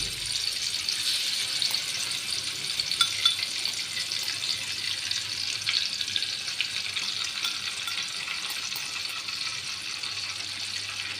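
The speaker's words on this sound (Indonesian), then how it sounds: "Nih bumbu yang tadi yang udah diulek kita masukkan ke wajan, kita goreng." Ground spice paste fries in a wok with a steady, close sizzling hiss that holds for the whole stretch, with faint scattered crackles and no talking.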